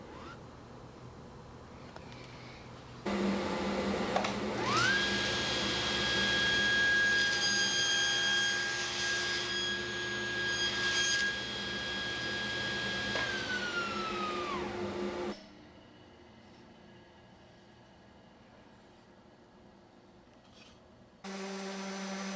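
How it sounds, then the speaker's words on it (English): A table saw blade cutting through a wooden cheese board, a loud steady motor whine that rises in pitch and holds for about ten seconds before winding down, with quiet room noise around it. "Now raise the table saw blade so that it cuts completely through the hole"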